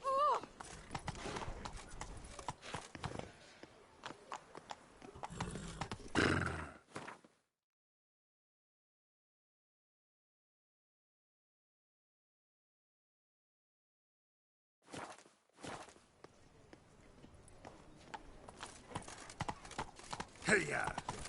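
Geralt's horse Roach trotting through Beauclair in Witcher 3: steady hoof clip-clops under talk with music, cutting to silence for several seconds, then resuming with more clopping and voices.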